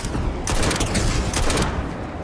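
Rapid gunfire in a Starfield Shattered Space firefight, dense overlapping shots and bursts with two sharper volleys standing out, loud and continuous across the short stretch.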